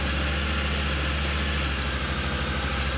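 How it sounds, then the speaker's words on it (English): A 2022 Honda Talon X Fox Live Valve side-by-side idles close by with a steady, low, throaty rumble and faint vibration, and no other sound over it. "I think it idles, it will drop down to idle about 800 RPM."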